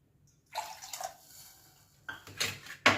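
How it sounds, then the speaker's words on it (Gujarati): Water from a bowl poured into a pot of rice being cooked with a tempering for jaggery rice, heard as two short splashing pours separated by a pause, fairly close and with no talk. "બીજું બાઉલ પણ આપણે નાખવાનું છે પાણીનું"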